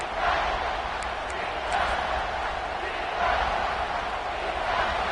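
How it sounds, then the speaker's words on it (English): A football stadium crowd roars continuously during a close game, a dense steady wash of cheering with a few whistles, at full volume throughout. "this crowd is bringing down the house"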